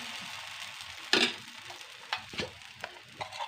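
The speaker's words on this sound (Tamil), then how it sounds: "இப்போ நம்ம தோசையை ஊற்றிக்கலாம். நம்ம கொஞ்சம் மொத்தமாகவே ஊற்றிக்கலாம்." Wheat flour adai dosa batter hits a hot pan and sizzles, a soft steady fizz with a few sharper scraping and splattering bursts, quiet and close with no talking.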